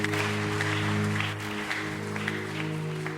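A church congregation applauds God in a brief, steady patter of clapping over sustained low keyboard tones.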